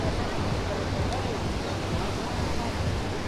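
Heavy surf at Baga beach in Goa, rough enough that water games were called off: a continuous, loud, roaring wash of breaking waves with a deep rumble underneath and no pauses.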